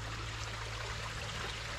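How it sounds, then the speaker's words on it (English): Steady rush of a stream flowing out of a cave, a continuous soft burble with no breaks and no voices, at Keel Mountain Nature Preserve, Gurley, Alabama. "Here's where the water comes out of the cave."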